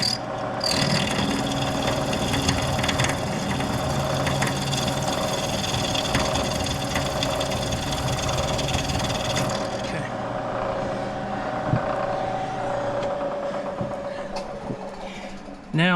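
Rough mechanical grinding and ratcheting from a damaged log splitter engine with a broken bolt, a dense, steady clatter running close and loud before easing off toward the end.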